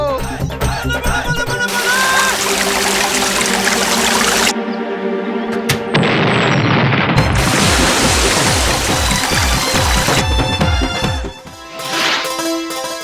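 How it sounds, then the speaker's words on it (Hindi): Cartoon river let loose and rushing, a loud continuous wash of flowing water with splashy bursts and a brief lull midway, heard under music with no talk. "खोल दो नदी, बहने दो इस नदी को"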